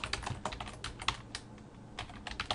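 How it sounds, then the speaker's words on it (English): Rapid typing on a computer keyboard, a quick irregular run of close, crisp key clicks with no voice. "I'm going to go to Google and type in my website"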